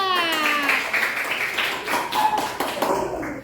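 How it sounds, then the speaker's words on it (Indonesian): A class of elementary school children claps together in a classroom, a burst of quick, uneven hand claps heard just after a teacher's voice, trailing off into scattered taps. "beri tepuk tangan untuk laki-laki"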